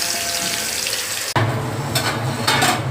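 Dried prawns frying in a pan, a steady close sizzle with a loud clatter near the midpoint, after which the frying continues with stirring scrapes and a broader hiss.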